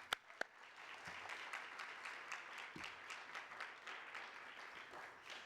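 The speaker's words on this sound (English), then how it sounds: "another round of applause for them" Audience at an alumni awards ceremony applauding in a room, a steady wash of clapping with a few sharper nearby claps, fairly faint and without talk.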